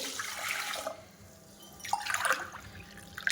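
Water is poured from a glass into a large cooking pot in a home kitchen while making jowar chakli dough. Two separate splashing pours are heard, close and moderately loud, with a short quiet gap between them.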